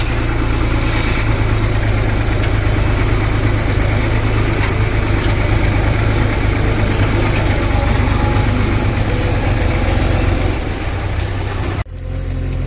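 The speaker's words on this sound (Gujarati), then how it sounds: "એટલે આપણે ટ્રેક્ટર બંધ નથી કરવાના" Tractor engine left running at night on a farm, a loud, steady close-up idle with a constant low rumble throughout, briefly dipping near the end.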